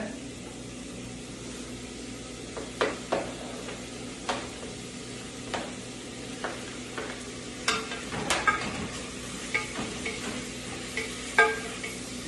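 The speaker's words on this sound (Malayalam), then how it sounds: "അങ്ങനെ എണ്ണ ചൂടായി ഉള്ളി ഇടാൻ പോവാണ്" Chopped onions frying in hot oil at the start of a chicken curry, giving a steady soft sizzle punctuated by scattered stirring taps and clicks.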